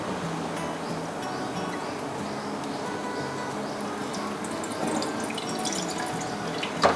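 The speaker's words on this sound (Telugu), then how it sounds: "ఓకే, గిన్నె పెట్టినా ఇప్పుడు నీళ్ళు పోయావా నువ్వు?" Water poured into a cooking pot in a home kitchen, a continuous splashing trickle that runs steadily for several seconds, fairly close, with no voices over it.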